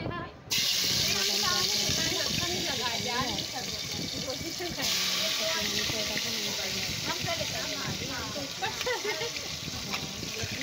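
Bay leaf, black peppercorns and dried red chili dropped into hot oil for tempering, giving a loud continuous sizzle that runs throughout while a person talks over it.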